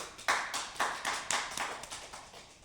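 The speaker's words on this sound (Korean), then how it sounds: "박수 한번 쳐줘야 될 것 같은데" A small group in a precision-measurement classroom gives a short burst of hand clapping, about eight distinct claps that fade quickly, with no voices over it.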